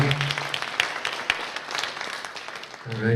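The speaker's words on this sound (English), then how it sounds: "How about a big round of applause for them putting this whole thing together?" After an Elvis impersonator show, an audience gives continuous applause in a soft, even patter at moderate distance, with brief tonal sounds at the start and end.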